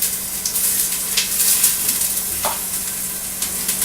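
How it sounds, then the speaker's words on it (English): Onion and garlic sizzle loudly in a pan for pizza sauce, a close, steady crackling hiss broken by occasional stirring scrapes, with no voices. "I've been cooking the onion and the garlic for about 3 minutes or so."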